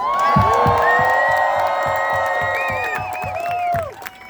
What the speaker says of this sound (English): let's give Evelyn a huge round of applause